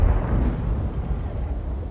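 A deep, booming blast opens the clip, followed by a rumbling low roar that slowly fades: a drum cannon firing on a Char Futur 4 tank in a video game.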